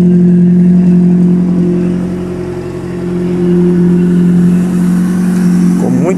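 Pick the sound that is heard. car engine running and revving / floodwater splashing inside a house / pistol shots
car engine running and revving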